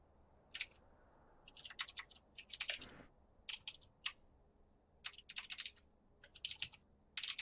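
Close computer keyboard clacking comes in quick irregular bursts of sharp keystrokes separated by brief pauses, with no talking.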